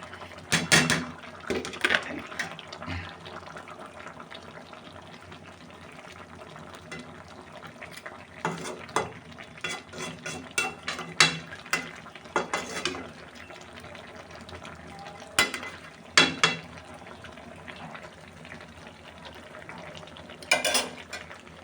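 Koi fish fry in a pan with tomato and coriander, a continuous sizzle broken by bursts of stirring, scraping and utensil clatter at irregular intervals.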